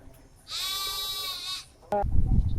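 A single sustained, harmonic sheep bleat rings out clearly in a modified semi-free-range pen, followed by a short second call and then rustling, shuffling noise of the flock close by.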